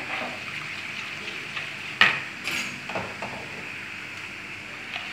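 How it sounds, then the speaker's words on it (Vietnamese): Beaten eggs for a flan are stirred in a bowl, producing a steady soft swishing with a few light clinks of the utensil against the bowl, close and quiet, with no talk. "Ta bắt đầu quậy trứng."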